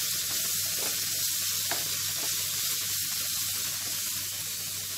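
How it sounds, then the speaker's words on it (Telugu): Cucumber pieces frying lightly in a pan with chilli powder and turmeric give off a steady, even sizzle throughout. It sits close and continuous, with faint stirring scrapes and no talking. "ఈ దోసకాయ ముక్కల్ని లైట్గా ఫ్రై చేసుకుందామండి."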